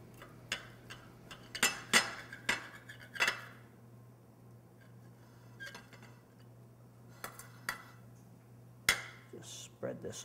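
A knife cutting through a triple-decker fried bologna sandwich, quiet sawing and sharp clicks of blade on plate in uneven bursts, over a low steady hum.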